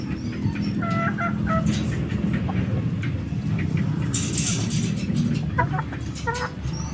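Backyard chickens cluck in short, scattered bursts over a steady low hum, with a brief rustling flurry partway through, all fairly close.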